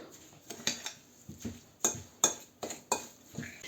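A fork clinks and scrapes against a bowl in uneven bursts, sharp taps of metal on ceramic as soft cheese is mashed, close and fairly quiet.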